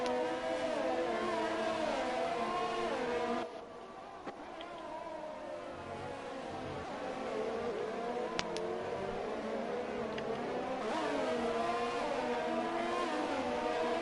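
A pack of Formula One cars at Monaco in a racing video game, engines roaring as they accelerate after a safety car restart; dense, layered, continuous revving, briefly easing before building again.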